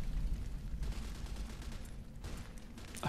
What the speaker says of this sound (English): I feel like I can hear gunshot.